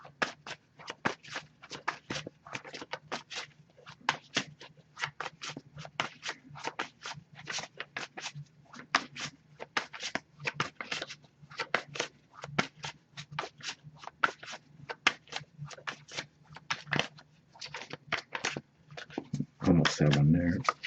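Rapid, steady riffling of tarot cards being shuffled, a continuous run of crisp flicks close by, ending with a louder burst of handling.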